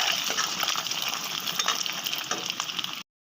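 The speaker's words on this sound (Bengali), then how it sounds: "কি সুন্দর ডিমটা ভাজা হয়ে যাচ্ছে।" Boiled, scored eggs sizzle in hot oil in a pan for egg curry, a dense crackling fry with faint stirring, close and steady before cutting abruptly to silence.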